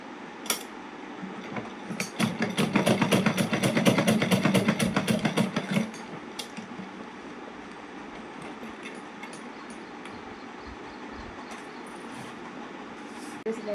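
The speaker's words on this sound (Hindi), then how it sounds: "दो तीन बार सिलाई लगा देंगे ताकि हमने 2-3 बार लगा दी है सिलाई प्लास्टिक के ऊपर।" A sewing machine stitches a suit sleeve's fabric over plastic. A fast, even run of mechanical stitching clicks lasts about four seconds up close, then stops, leaving a quiet room with faint scattered handling noises.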